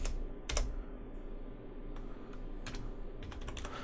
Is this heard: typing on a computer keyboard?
yes